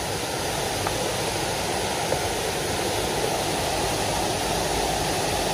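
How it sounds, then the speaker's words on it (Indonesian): A waterfall at the Lenggeng forest recreation park roars in a steady, loud, unbroken wash of rushing water with no voices. "Air terjun."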